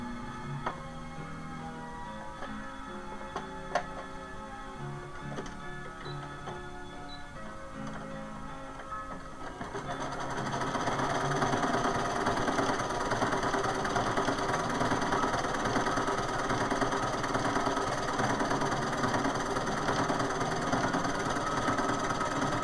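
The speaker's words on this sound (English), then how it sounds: "I'm going to do an overlock stitch." An overlock sewing machine stitches a doll's hospital gown. After ten seconds of quieter ticking and small mechanical clicks, the machine runs steadily and loudly, with a dense whirring hum to the end.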